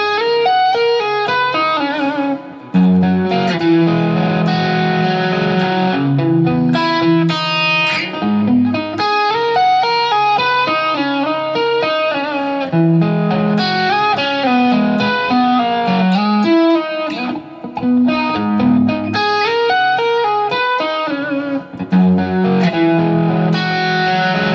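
An electric guitar plays a tapped melody with the distortion lowered and the pickup coil split, giving a cleaner, clearer tone; rapid articulated notes run continuously and loudly with no talking.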